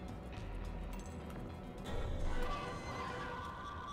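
A horse in a video game neighs once with a long, rising whinny, layered over dense game noise and music, with the clatter of hooves running beneath it.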